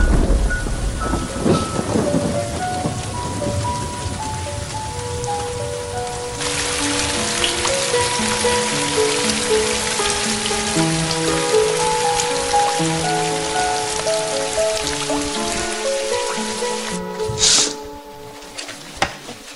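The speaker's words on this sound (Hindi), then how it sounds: "कल तक बारिश रुक जाएगी" Heavy rain pours steadily with rolling thunder, under a soft melodic music score, loud and continuous before a brief pause near the end.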